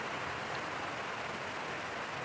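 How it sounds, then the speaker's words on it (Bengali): Heavy rain falls steadily outside, a dense, even hiss with no breaks or other sounds over the whole stretch. "বাইরে প্রচন্ড বৃষ্টি পড়তেছে"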